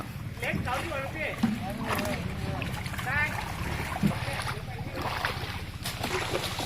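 A boat travels through floodwater with a steady churning motor and water noise close by, while someone talks over it almost throughout.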